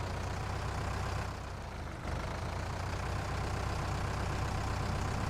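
A virtual tractor labors uphill while pulling a subsoiler in Farming Simulator 19, a steady low engine drone that dips briefly before resuming its constant strained hum.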